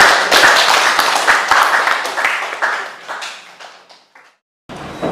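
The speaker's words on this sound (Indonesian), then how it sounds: "Kita kasih aplaus buat kelompok 3." A classroom of pupils claps for group 3, a dense, loud burst of applause that fades out after about four seconds, followed by a brief pause.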